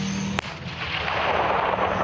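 A single heavy tank cannon blast cracks out sharply, then a long rumbling roar and debris-like hiss rolls on and slowly fills the space.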